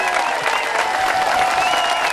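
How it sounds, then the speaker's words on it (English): An audience at a Scrapheap Challenge roadshow fills the space with dense, continuous applause, loud and steady from start to finish, with a faint crowd murmur underneath. "Give them a big round of applause, ladies and gentlemen."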